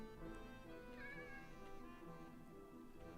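A cat meowing in the Minecraft video game, a few thin, wavering mews rising above a steady background of game ambience, moderately faint and heard alone without talk.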